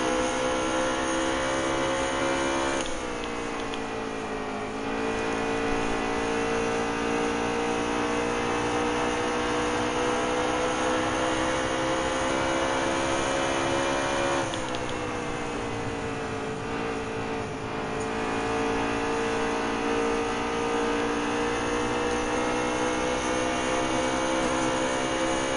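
In the NASCAR Heat 3 video game, an Xfinity Series race car at Iowa holds a loud, steady engine drone at high revs, with two brief dips in pitch and volume before the car powers back up.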